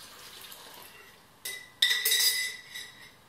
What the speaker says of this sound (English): So to this, I'm going to be adding in some coconut milk.